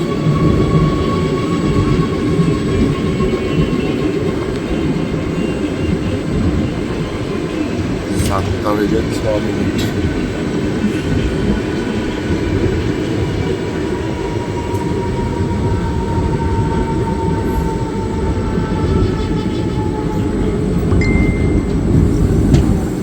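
Steady rumbling roar inside a moving ICF coach of the 22388 Black Diamond Express, Dhanbad to Howrah, with continuous wheel and rail noise throughout and brief faint squeals and clicks partway through.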